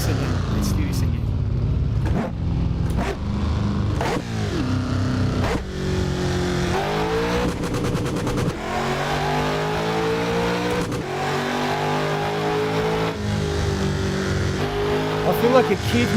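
A 1000HP+ car in the Assetto Corsa racing game revs hard through highway traffic. Its engine note climbs and drops repeatedly with gear shifts, and tyres squeal briefly, all under continuous talking.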